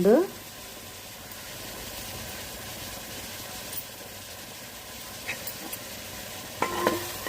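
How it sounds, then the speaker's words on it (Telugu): Onions with a little turmeric sizzling in a clay pot, a steady soft frying hiss with occasional scrapes and clinks of stirring, fairly close and continuous throughout. "ఉల్లిపాయలు వేస్తాం కదండి కొంచెం పసుపు వేసుకుందాము ఒక చిన్న స్పూన్"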